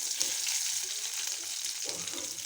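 Dried red chili, tempering spices, crushed garlic, onion, green chili and curry leaves sizzle in hot oil in a pan, giving a steady close crackling hiss with soft stirring, no voices.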